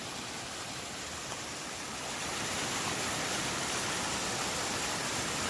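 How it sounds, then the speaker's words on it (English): A small waterfall on a roadside creek spills over exposed bedrock, making a steady, broad rushing hiss that holds evenly throughout and swells slightly louder partway in, with no talking. "Got a little waterfall up there."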